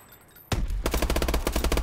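Automatic gunfire in a Call of Duty multiplayer match: after a quiet half second, a loud single shot is followed by a rapid, steady stream of close, evenly spaced rounds that runs to the end.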